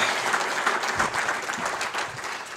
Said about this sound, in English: Let's have a round of applause for Jeff.